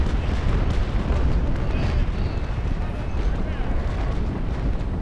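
Cannon broadsides from sailing warships in the naval combat game Naval Action, during a port battle at Scarborough, form a dense, continuous rumble of booming fire, loud and sustained, with voices talking underneath.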